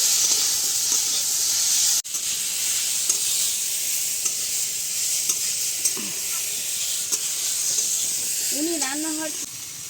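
Potato pieces frying in hot oil in a pan for a home-style tilapia fish curry give a steady, close sizzle with occasional stirring clinks, and a voice briefly sounds near the end.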